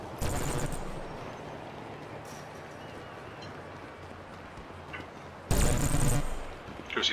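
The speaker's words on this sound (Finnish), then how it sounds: "Ai sä ammut vähän tuolla." Bursts of automatic gunfire in the video game GTA V, one at the start and a louder one near the end, separated by quieter game ambience.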